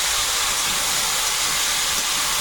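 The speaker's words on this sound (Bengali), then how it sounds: "ওই তেলের মধ্যে কচুটা দিলাম আগে একটু ভেজে নেব" Pieces of taro frying in hot oil in a Sundarbans home kitchen, a loud, dense, steady sizzling hiss that fills the whole moment without pause or speech.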